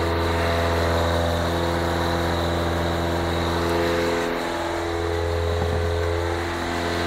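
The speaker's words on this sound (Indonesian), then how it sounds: "sekilas mobil nyala normal" A car engine idles steadily and close by during an overheating check, a constant low hum with tonal whine and no talk over it.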